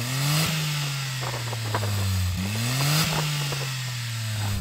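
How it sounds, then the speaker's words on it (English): A Suzuki Cappuccino kei car engine revs repeatedly, its steady hum climbing and dropping in a few smooth, moderately loud sweeps with faint clatter underneath. "let's have a listen to the cappuccino"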